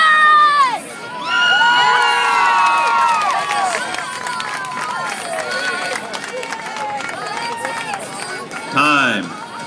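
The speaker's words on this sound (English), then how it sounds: "Don't be quiet for this one. Please make some noise for Shelly" A crowd cheers and shouts loudly for a woman lifting at a weightlifting snatch ladder event, with whoops and children's shrieks, a brief lull near the start, then a sustained roar and another burst of yelling at the end.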